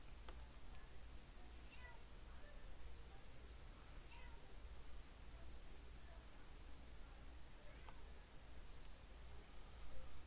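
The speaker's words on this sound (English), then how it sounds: "the incessant cat meowing in the background" A cat meows repeatedly, fairly faint and a little distant, over a low steady background hum.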